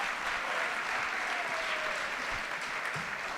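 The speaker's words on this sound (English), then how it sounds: "you can clap once, real quick." An audience at an athletic awards ceremony breaks into dense, steady applause, many hands clapping at once in a loud, continuous wash filling the room, with no voices over it.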